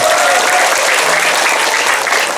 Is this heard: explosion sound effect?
no